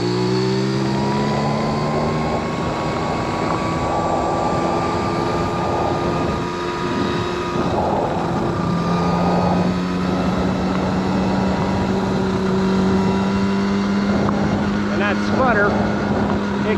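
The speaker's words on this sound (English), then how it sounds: "Sputter, it comes and goes, and you don't even have to be wide open throttle" A 1979 Honda Express moped engine runs steadily up close, its drone breaking into intermittent sputtering bursts that come and go.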